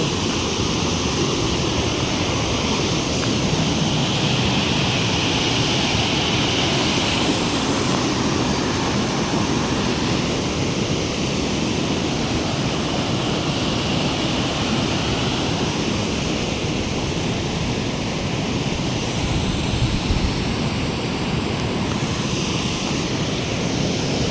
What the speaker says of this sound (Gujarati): જોઈ મિત્રો પાણી ચાલી રહ્યું છે મિત્રો લાઈવ એરિયામાં જોઈ શકો છો